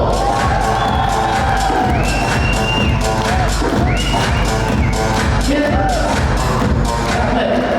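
A loud wedding crowd in Temirtau cheers, whoops and shouts with clapping mixed in, a dense, continuous roar from the guests with voices rising over it.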